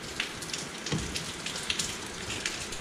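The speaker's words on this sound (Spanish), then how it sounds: "está un poquito oscuro y empezó a llover." Rain falling outdoors onto surfaces beside a car under repair, a steady broadband patter with scattered brief drop taps, moderately quiet and close, with no talking.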